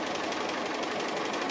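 A sewing machine stitches an appliqué, a steady continuous mechanical whir with fine rapid stitching pulses, close and alone throughout.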